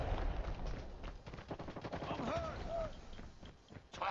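Automatic sentry gun opening fire in a Call of Duty Mobile battle royale match, rapid bursts of gunfire crackling throughout amid other combat noise and an overlapping voice.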